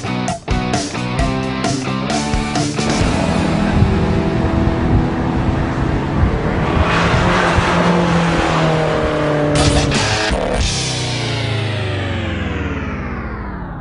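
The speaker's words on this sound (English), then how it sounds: "Listen to that engine note. It's fantastic." A Fiat 500 Abarth engine drives hard at speed on a track, its buzzy note climbing through the revs with gear-change dips, then easing off into a falling whine toward the end, with no talking.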